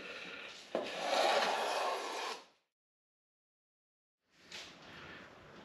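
Hand plane shaving a wooden casting pattern, a raspy scraping stroke of about two seconds, then a pause and another stroke starting, close and clear.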